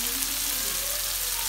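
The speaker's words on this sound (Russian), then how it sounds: "А сейчас отдельно обжариваю лук." Chopped half-ring onion slices fry in a pan for pumpkin pilaf, giving a steady, soft broadband sizzle throughout, with no talk over it.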